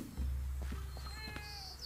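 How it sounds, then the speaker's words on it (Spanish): A cat meows in Minecraft, a short faint high meow rising over a low background hum with a few soft clicks, quiet overall. "¿Ese es un gato?"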